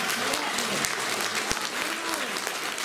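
Audience applause at a Leningrad-themed commemorative concert, a steady wash of many hands clapping throughout, fairly close and full, with faint voices murmuring beneath.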